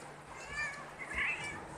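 Wild homeless cats meowing outdoors at feeding time, a couple of soft, brief cries rising over low background noise.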